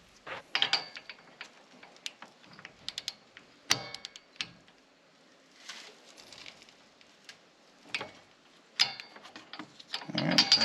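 A socket wrench ratchets a spark plug tight on a Toro Timecutter mower, giving sparse, close metallic clicks and short bursts of ratcheting separated by quiet gaps.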